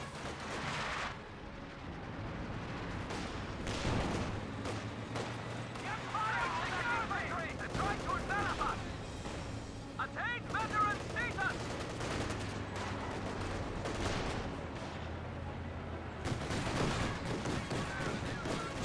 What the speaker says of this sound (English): Do you have the flak half track firing some bursts?